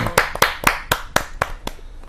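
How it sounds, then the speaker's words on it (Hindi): A small audience at a Hindi poetry gathering claps to welcome a poet, a sparse series of distinct hand claps at an uneven pace, close and clear. "जोरदार तालियों के साथ अनिल जोशी जी का स्वागत है।"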